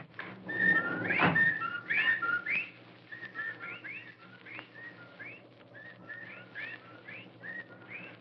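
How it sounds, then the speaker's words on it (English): Whippoorwill calls created as a sound effect for a radio drama, sounding as repeated whistled phrases that rise and fall in a steady rhythm over a low hum, with a brief louder burst near the start. "Well, there are the whippoorwills."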